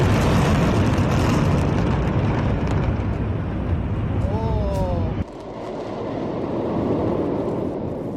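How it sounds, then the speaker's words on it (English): Explosive demolition of never-occupied unfinished buildings brought down with five tons of explosives, heard as a loud sustained roaring rumble of blasts and collapse lasting several seconds, then dropping abruptly to a lower lingering rumble, with faint whistling tones in the middle. "5 tons of explosives will make disappear the buildings in a heavy smoke."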